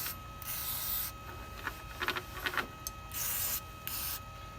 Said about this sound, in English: Every little hole, spray it all down.